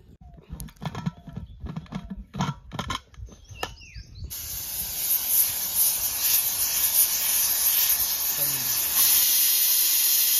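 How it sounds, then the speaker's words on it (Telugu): Some clattering, then a pressure cooker cooking mutton haleem whistles: a loud, continuous high steam hiss that holds steady to the end. "ఇప్పుడు నేనైతే దక్కన పెట్టి ఒక 6 విజిల్ వచ్చేదాకా నేను ఉడికిస్తాను"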